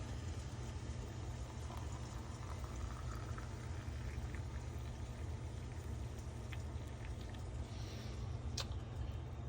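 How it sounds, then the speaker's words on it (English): Hot water pours steadily over coffee grounds in a premium metal-and-glass AeroPress, a continuous close hiss and rush with no break and no talking. "I'm gonna pour my hot water over my grounds."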